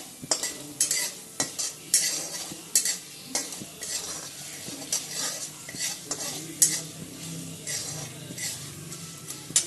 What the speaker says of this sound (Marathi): लालसर थोडीसा कलर बदलेपर्यंत भाजून घ्यायचा आहे